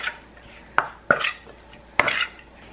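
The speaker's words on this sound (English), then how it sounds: "then some ground paprika, some black pepper, and then you're just gonna mix all of this." Shrimp tossed with ground paprika and black pepper in a bowl for tacos: a few sharp clinks and scrapes in quick bursts, close up, with no talking.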